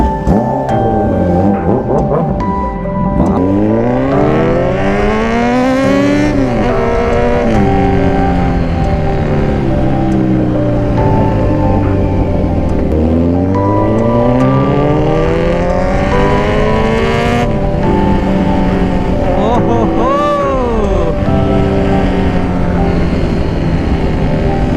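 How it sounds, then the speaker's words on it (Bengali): A motorcycle fitted with an Arrow exhaust roars loudly and continuously, its engine pitch repeatedly climbing and falling as it is revved while riding along a road. "অ্যারো লাগিয়েছে ভাই, আলাদাই ব্যাকফায়ার মারে অ্যারোতে।"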